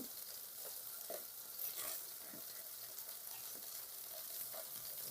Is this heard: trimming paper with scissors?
no